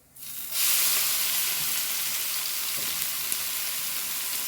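Urad dal dropped into hot oil, a loud steady sizzle that bursts in within the first half second and holds strong and even to the end, with no voices.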